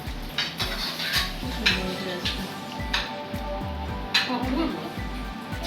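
Plates, pots and cutlery clink and scrape at a home meal while rice is served, with irregular close knocks and clatters under steady conversation.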